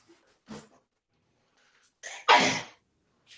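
A single sharp sneeze with an audible in-breath just before it, close and loud, in an otherwise quiet room with a brief sound earlier.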